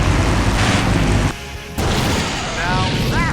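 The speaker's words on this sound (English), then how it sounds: "Now that's an explosion, ladies and gentlemen." In the video game Full Throttle Remastered, a loud explosion booms with a deep rumbling burst that cuts off abruptly, then lighter debris and crackling follow, with voices around it.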